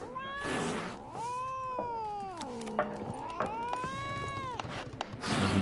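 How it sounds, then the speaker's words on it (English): A frightened cat in The Witcher 3 lets out drawn-out, wavering meows and yowls, several long cries rising and falling close up, with no talking. "There's one freaked out cat."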